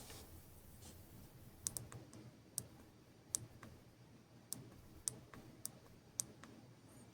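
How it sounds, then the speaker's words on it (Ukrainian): The small buttons on a Micro:bit board are pressed repeatedly, giving sharp, close, isolated clicks at roughly half-second to one-second intervals over a quiet background, and nobody speaks. "І ми так можемо клацати дуже-дуже довго."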